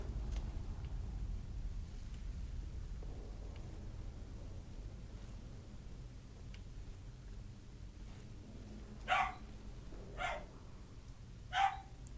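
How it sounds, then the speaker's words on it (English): A dog barks three times in the distance, faint, evenly spaced yelps near the end, over a steady low background hiss and rumble during a modded Skyrim game. "Sorry for the sound of the dog in the background."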